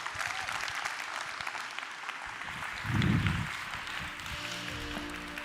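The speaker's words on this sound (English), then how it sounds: "Let's have another big round of applause." Audience applause at a Break the Bias forum, steady clapping from a crowd heard at moderate distance, continuous through the clip with a brief low rumble midway.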